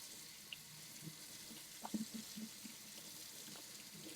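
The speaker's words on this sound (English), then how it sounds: "spraying, running cold water over these things" Steady running cold tap water over fish tank parts, quiet and constant, with a few faint clinks and knocks of objects under the stream.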